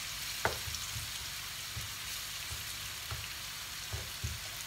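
Potatoes browning in a frying pan for spinach saag give off a steady, faint hiss of frying, with a few soft stirring knocks scattered throughout and no talk.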